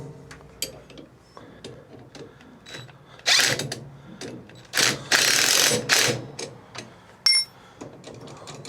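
A ratchet with a 1/2 inch socket works a bolt on a Craftsman 22hp 46-inch riding mower: close, sharp clicking in short bursts, with a few louder, longer runs of rapid ratcheting between quieter pauses.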